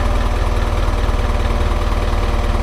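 Isuzu truck engine running under load to power a Furukawa Unic 5-ton crane as its boom extends, a steady loud low diesel rumble with a pulsing throb, close and continuous.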